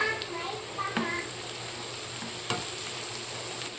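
Onion, a whole head of garlic and ginger being stir-fried in butter, a steady hiss of sizzling with a few scraping stirs of the spatula, close and continuous throughout.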